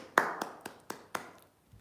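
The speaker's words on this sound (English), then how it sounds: "Everyone, let's all clap up." Five quiet, evenly spaced hand claps, one about every quarter second, from a host applauding a viewer during a live pizza-baking chat; the claps sound close but soft and fade out at the end.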